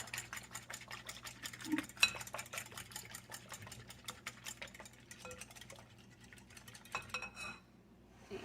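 A casserole mixture with hash browns is stirred in a bowl, making a rapid series of soft, close scraping and clinking strokes that slow and thin out toward the end.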